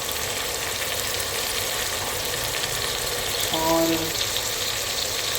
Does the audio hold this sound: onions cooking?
yes